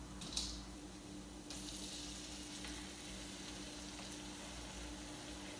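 Ground beef sizzling in a pan on a home stove, a steady soft crackle and hiss with a faint low hum beneath and a brief clink near the start.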